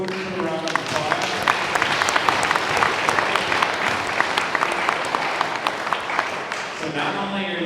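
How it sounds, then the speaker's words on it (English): A large audience at a Christmas in May morning program applauds the food crew, steady dense clapping for several seconds with a voice speaking over it and fading at the end. "Let's give the food crew a round of applause."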